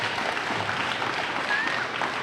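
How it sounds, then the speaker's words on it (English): Sustained applause from an audience at a school DARE event honoring police officers and teachers, dense even clapping that holds steady throughout with a faint background murmur. "Let's give them a round of applause."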